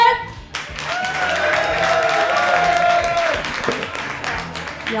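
Audience clapping and cheering at a sleight-of-hand magic competition finals, a continuous burst of many hands that swells and then tapers, with voices calling out over it.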